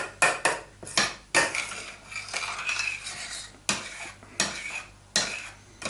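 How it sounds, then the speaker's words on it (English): A spoon scrapes semolina from the bottom and corners of a pot in repeated sharp strokes, with irregular clatters and rasps of metal against the pot close up and brief sizzling between strokes. "I'm scraping the bottom and the corners to make sure it doesn't burn."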